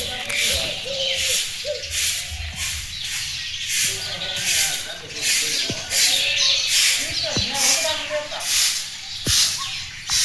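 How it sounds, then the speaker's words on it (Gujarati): Birds chirp and sing around a quiet hill temple, with clear tweets and calls spread across the scene amid soft wind-like hiss, while a person speaks intermittently. "એટલે તમને પક્ષીનો મીઠો મધુરો અવાજ સંભળાશે."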